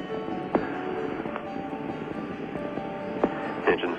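Space Shuttle Challenger's three main engines roar during launch as they throttle up to 104 percent, a steady, dense broadband rumble with a few brief crackling peaks.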